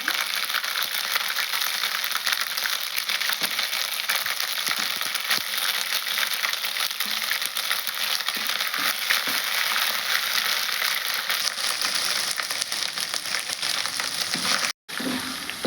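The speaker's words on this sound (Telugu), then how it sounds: "కొద్దిగా అయితే అల్లం పేస్ట్ వేస్తున్నాను" Ginger paste fries in a pan with a dense, steady sizzle, loud and unbroken close up, with faint scraping of stirring before a brief cutout near the end.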